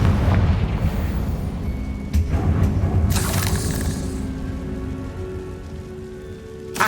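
A Confringo fire-blast spell goes off in Hogwarts Legacy, a single loud burst about midway that rises out of a steady rain-like roar of background noise and then fades.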